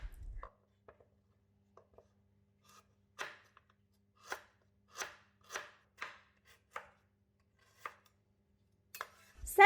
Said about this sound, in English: Then, cut the lemongrass roughly